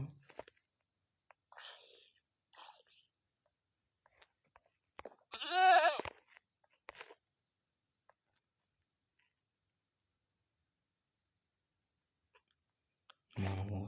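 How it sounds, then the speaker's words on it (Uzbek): Goat bleating in the Minecraft video game: one wavering bleat stands out amid near silence, with soft whispered talk before and after it. "Mana hozir echkini ovozi keldi."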